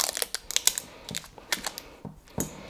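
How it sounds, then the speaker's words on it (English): Transfer tape is peeled slowly off a Cricut vinyl design stuck on a jar, giving a close, crackly run of small ticks and snaps with brief pauses between them. "Then we're going to slowly remove the transfer tape."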